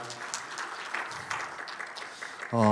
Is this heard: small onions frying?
no